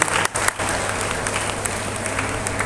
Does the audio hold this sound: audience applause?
yes